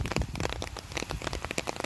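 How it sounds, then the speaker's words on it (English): Rain falling outdoors on wet ground, a steady dense patter of drops close by with no voices, continuous and moderately loud throughout. "Mommy's just leaving you outside in the rain"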